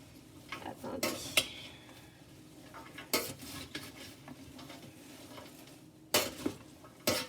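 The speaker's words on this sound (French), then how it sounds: "C'est important de bien brasser." Food is stirred in a hot frying pan: a utensil scrapes and clinks against the pan in irregular strokes over a soft background sizzle, heard fairly close and alone.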